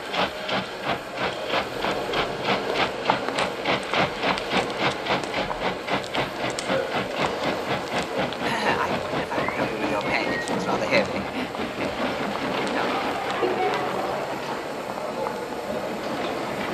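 A steam train running, its rhythmic chuffing and hiss steady and fairly loud throughout, with voices faintly talking over it.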